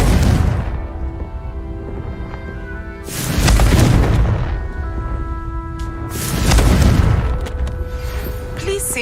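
Confringo blasting spell explosions in Hogwarts Legacy, two loud booming blasts a few seconds apart over a steady game background hum.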